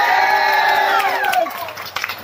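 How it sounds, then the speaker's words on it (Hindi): An audience in Kurla claps and cheers loudly to welcome a speaker at a Vivah team meet-and-greet. Dense crowd noise fills the hall alongside a fading ringing tone, easing off toward the end with scattered claps. "जोरदार ताली बजा के स्वागत करें।"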